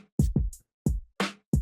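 Soloed dry drum track with no effects in Soundtrap, a handful of punchy kick-and-snare hits in a quick groove, close and clean, with no voices.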